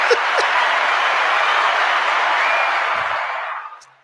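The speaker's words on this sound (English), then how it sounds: "Let's give a round of applause for Batista in the building" A round of applause on a stock-talk call-in stream, a smooth, even wash of clapping that holds for about three seconds and then fades out.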